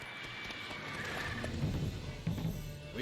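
Roach, the horse in The Witcher 3, lets out a neigh with a few hoof clops, close and clear over a low game ambience.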